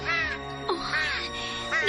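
A crow caws several times outdoors, harsh repeated calls fairly close, with a faint background hum beneath.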